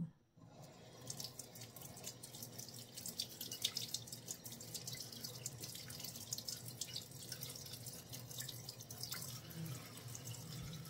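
Eggplant rinsed under a running kitchen tap, water splashing and dripping steadily into a sink with scattered clinks, continuous and close, no talk.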